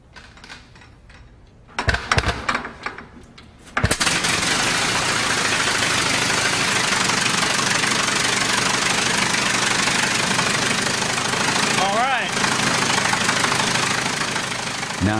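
A replica Wright brothers aircraft engine sputters with a few rough firing bursts, then catches and runs as a loud, continuous knocking, clattering roar that holds steady to the end.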